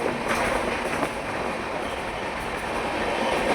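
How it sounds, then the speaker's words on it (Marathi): A passenger train runs steadily toward Ratnagiri on the Konkan line, a continuous loud rumble of wheels and carriages with faint clickety-clack, heard from on board with no talking. "आपली ट्रेन बघा किती मस्त आणि अशा छानशा गतीने पुढे पुढे जाते"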